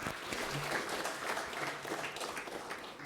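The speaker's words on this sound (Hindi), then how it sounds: "मैं एक बार विनंती करूंगी जोरदार तालियों से" An audience at a book launch gives loud applause welcoming a Rajya Sabha MP, steady crowd clapping throughout with a faint murmur of voices underneath.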